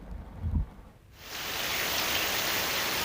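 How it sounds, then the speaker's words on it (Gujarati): Heavy monsoon rain pours in the Gir forest between Sasan and Talala in Gujarat. After a brief low thump, a dense, steady hiss of downpour rises and holds close and loud. "ગીર જંગલ સાસણ અને તાલાળા વચ્ચે ધોધમાર વરસાદ છે તે વરસી રહ્યો છે"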